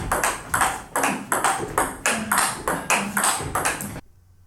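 Table tennis ball striking STIGA Genesis soft rubber in a rally, about a dozen loud, sharp clicks in a steady rhythm, close and with no one talking, ending in a brief quiet tail.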